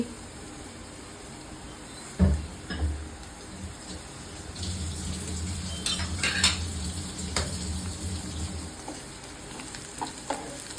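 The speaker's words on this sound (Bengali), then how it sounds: "এখন দিয়ে দিলাম মেথি মেথি একটু মেথিটি একটু ভাজা ভাজা করে নেবো" Whole fenugreek seeds fry with chicken in a pan for a dry chicken bhuna, a steady sizzle running throughout with a few sharp clinks of a spoon against the pan and occasional stirring scrapes.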